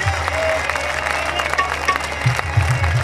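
A crowd at a devotional gathering claps loudly in honour of Baba Rahme Shah, a steady dense burst of applause with heavier low thumps building toward the end.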